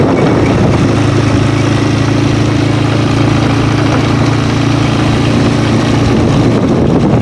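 A four-wheeler ATV engine idles close by on a trail, a loud, steady low rumble that holds unbroken throughout with no voices.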